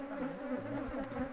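Bees buzzing around a beehive while queen cells are placed, a faint, wavering drone of many insects close by, rising and falling in pitch with no speech.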